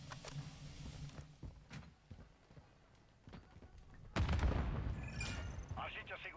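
Gunfire in Call of Duty: Modern Warfare III multiplayer, scattered sharp shots early, then a loud burst of explosive fire and rumbling impacts near the end, with players talking over the action.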